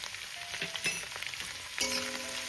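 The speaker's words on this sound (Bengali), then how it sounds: "এবার আমি পেঁয়াজকলিটাকে একটু ভেজে নেবো।" Spring onion with turmeric powder frying in a pan gives a steady close-up sizzle with a few faint scrapes of stirring, and the hiss brightens near the end. No one speaks.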